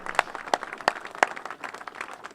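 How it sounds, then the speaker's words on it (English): An audience at a city job training academy claps for the staff, a short, fairly quiet round of scattered hand claps with no voices. "please give them a round of applause"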